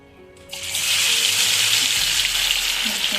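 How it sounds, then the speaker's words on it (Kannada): Cauliflower pakoda dropped into hot oil, a quiet start then a sudden loud, sustained deep-frying sizzle that holds steady to the end. "ಈಗ ಹಾಕೋಣ ಕಾಲಿಫ್ಲವರ್ ಪಕೋಡ"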